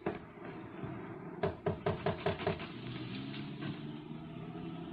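Knocking on a door, a quick series of about six firm raps grouped in the middle, over a steady low background hum with no talk.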